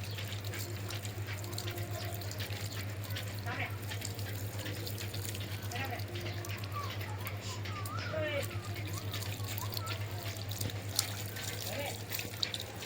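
Water splashes steadily from a tap or hose onto a nangili leaf vine growing in a home garden, a continuous running trickle under a low hum with voices talking in the background.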